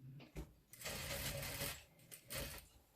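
A domestic sewing machine stitching a seam along a marked line on a garment being altered at the waist, with two longer bursts of steady whirring separated by short pauses and a few quick starts.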